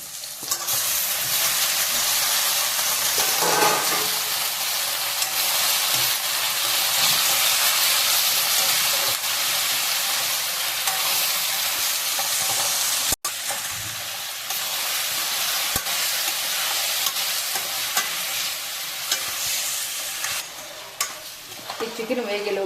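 Chicken frying in a pan with masala and onions for chicken curry, a loud, dense, continuous sizzle with hissing steam and occasional stirring, close up and with no speech throughout.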